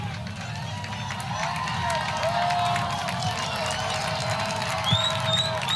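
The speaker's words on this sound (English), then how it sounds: "Fans starting to cheer." Fans cheer in the stadium during the final minute of a 2023 ACC women's soccer match between Pitt and Florida State. A steady crowd roar carries throughout, with a few sharp whistle-like tones near the end.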